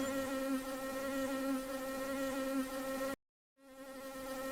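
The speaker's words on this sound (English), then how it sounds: "Molly Bee is so angry." An angry cartoon bee in an animated short gives a loud, steady droning buzz that cuts out abruptly near the end, then resumes after a short gap of silence.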